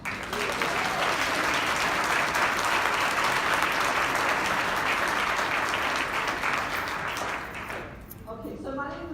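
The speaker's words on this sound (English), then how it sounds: "start this panel discussion with an applause for all the women." Sustained, dense applause from a seated audience at a panel discussion on inclusion, steady and loud for several seconds before tapering off near the end.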